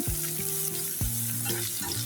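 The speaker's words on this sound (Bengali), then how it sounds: "এখন দিয়ে দিচ্ছি সব ধরনের মশলাগুলি, তারপরে হালকা একটু ভেজে নিচ্ছি" Spices lightly frying with already-fried onions for a meat curry: a close, steady sizzle with occasional stirring clanks and scrapes against the pan, no voices.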